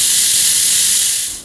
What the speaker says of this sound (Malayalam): ഹൈ ഫ്ലെയിമിൽ ഒരു വിസിൽ വരുന്നത് വരെ വെക്കാം